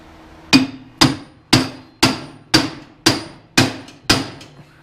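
Eight sharp hammer blows at a steady pace on a bearing in a snowblower transmission, each ringing briefly before the next, close and loud with no talking.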